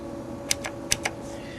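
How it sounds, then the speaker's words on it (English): Someone types on a clicky Omnikey keyboard with Alps switches, giving about four crisp, close keystrokes in quick succession over a faint background hum. "this is a clicky keyboard,"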